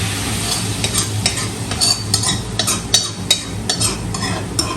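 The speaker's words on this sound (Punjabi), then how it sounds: "ਤੜਕਾ ਪੈ ਗਿਆ ਸਾਰਾ ਵਿੱਚ" Hot tempering with curry leaves sizzles in a pot of pakora kadhi, a steady close frying hiss with spoon stirring and scraping that leave irregular clicks and knocks throughout.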